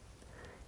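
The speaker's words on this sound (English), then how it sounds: "Oh, excuse me, sniffing." A single quick sniff, faint and close, over quiet room noise.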